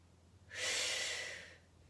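A single long, breathy exhale during a Pilates lower-body exercise, rising and fading over about a second, close and fairly soft, with no talking.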